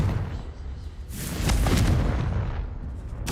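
Confringo blast spell exploding in Hogwarts Legacy, a single booming burst that swells and rumbles for about a second before fading, with a sharp crack near the end.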